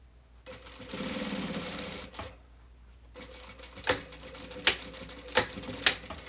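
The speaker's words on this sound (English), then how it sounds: "So I'm going to sew up to where I have my notch." Sewing machine stitching Ankara fabric for a men's native outfit, close and quiet. One steady run of rapid stitching, then a pause, then short bursts with sharp clicks and thumps.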